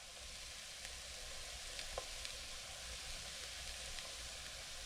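Ground meat sizzles in a pan with a tablespoon of sprinkled flour, a steady, even crackling hiss with a few faint clicks and no talking.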